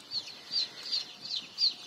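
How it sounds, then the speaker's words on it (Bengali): One-day-old layer chicks on a poultry farm give five bright, high peeps in an even rhythm, fairly faint and close, with no voices. "এই মুরগিগুলোর নাম হচ্ছে লেয়ার"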